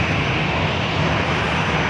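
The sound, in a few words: Delta Airlines Boeing 737-800 jet plane at San Diego airport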